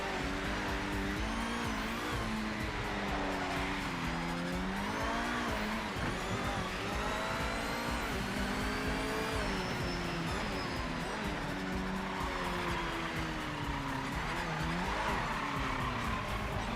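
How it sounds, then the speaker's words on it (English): Race car engine in the PMR racing video game, its revs rising and falling in smooth sweeps, with tire squeal and skidding on a track drying from wet, loud and continuous with no talk. "This car sounds alright as well."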